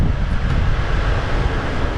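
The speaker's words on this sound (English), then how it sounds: "Putting the air on. That's the windy sound that you hear." Car air conditioning blowing on a drive in Thailand, a steady loud windy rush with low rumble filling the whole stretch, no talk.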